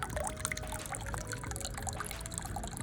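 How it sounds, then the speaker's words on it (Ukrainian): A mini waterfall in a small garden pond with a water lily trickles and splashes steadily, a continuous close pouring of water with no talk. "І такий міні-водоспади."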